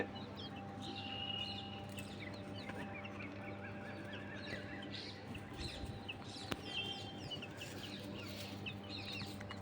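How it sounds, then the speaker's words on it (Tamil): Chicks cluck softly and steadily while scratching through litter, against a constant background hum, with small birdlike chirps scattered throughout and no voices. "கோழி குஞ்சு குப்பையை பறிக்குது"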